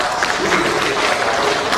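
Dense, steady crowd applause filling the whole moment, a broad wash of clapping with no pauses.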